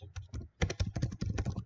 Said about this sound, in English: Typing's hard too.